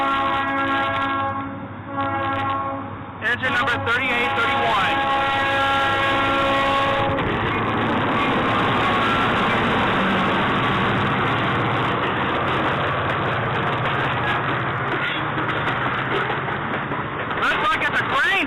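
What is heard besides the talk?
Toledo, Peoria and Western freight grain train passing, horn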